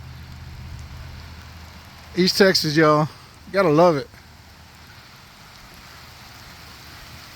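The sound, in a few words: rain falling during a storm in East Texas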